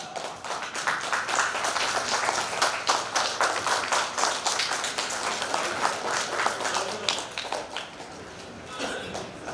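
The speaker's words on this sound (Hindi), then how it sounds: "एक बार फिर से जोरदार तालियां।" An audience at a state school chess championship event applauds, sustained crowd clapping with distinct sharp hand claps running throughout and tapering slightly near the end.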